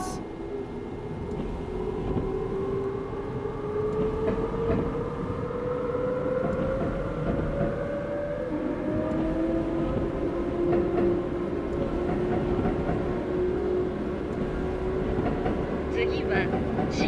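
A Yamanote Line train pulls away from Hamamatsucho in the Densha de Go game, its motor whine rising steadily in pitch over a continuous rumble of running noise, with no voices over it.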